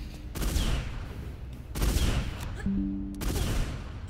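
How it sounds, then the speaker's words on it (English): Enemy gunfire in the video game Tomb Raider 3, with three loud bursts of shots spaced about a second and a half apart over a rumbling game background. "She is just shooting the heck out of me."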